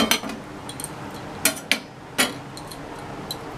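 A cooked aloo paratha set into a pot brings a few sharp metallic clinks and taps of cookware, spaced irregularly over a quiet kitchen background.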